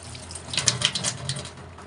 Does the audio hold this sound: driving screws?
no